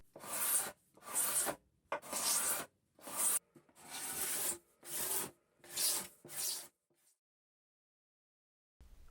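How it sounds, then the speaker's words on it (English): Guitar bindings and purflings on the back of a guitar body are leveled by hand with a scraping, filing motion, giving eight rhythmic raspy rubbing strokes close up, then stopping into silence. "I start leveling the bindings and purflings, starting with the back"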